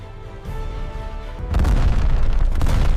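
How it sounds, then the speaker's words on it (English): An explosion destroys a German tank in World War II: an initial rumble swells and then gives way to a loud, sustained deep blast with crackling bursts that keep roaring to the end. "A devastating explosion tears through the German tank as flames burst from the open hatch."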